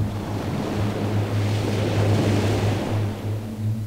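Continuous rushing water ambience in the stealth video game Thief Gold, a steady broadband wash with a low hum underneath, loud and close with no talking.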